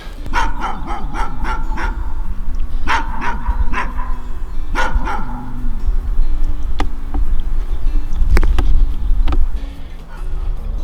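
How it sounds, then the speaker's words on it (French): A dog barks in short repeated bursts, moderately distant outdoors, with a buzzing insect drone and low rumbling background throughout and no talk. "on entend encore le chien."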